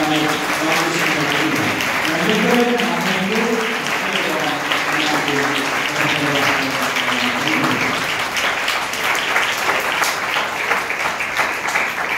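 Sustained applause from an audience at a church gathering, steady dense clapping throughout with voices mixed in during the first part.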